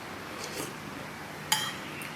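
A metal spoon clinks once against a bowl of sayur asem while scooping broth with peanuts, a single faint, close tap in a quiet room with soft handling noise before it.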